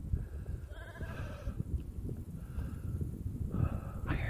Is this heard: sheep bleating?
yes